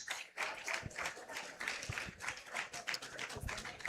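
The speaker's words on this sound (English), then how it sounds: "With an applause, let's welcome him on stage." Audience applause at a university wellbeing conference as a college principal is welcomed on stage, an uneven patter of claps from a moderately sized crowd, somewhat faint and irregular.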